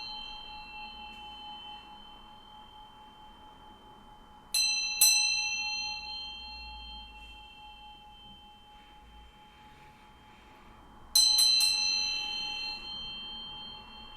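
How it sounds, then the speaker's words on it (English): A bell is struck twice in quick succession, then again about six seconds later, each strike ringing out bright and close before decaying slowly into a long sustained hum. "I'm going to ring this bell to bring some good vibes"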